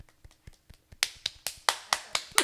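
Sparse hand claps from a comedy-show crowd greeting comedian Madison Morgan, starting as a few isolated claps and growing into louder, sharper, irregular claps, close and without talk.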